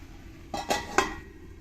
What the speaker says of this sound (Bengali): এবার আমি ঢাকনাটা তুলে দেব